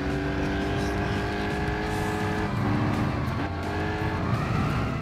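A race car's engine roars steadily and loudly in Gran Turismo 6 during a Clubman Cup 400 PP career race, with sustained revving tones shifting pitch through gear changes and occasional tire squeal.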